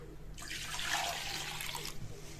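Water pours briefly into a cooking pot for a vegetable curry, a close splashing gush lasting about a second and a half before stopping.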